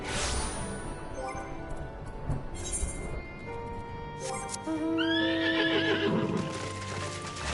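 A Final Fantasy XIV mount horse whinnies loudly with a rising, trembling neigh, preceded by clip-clopping hooves and a crash, with a synthetic, game-like quality.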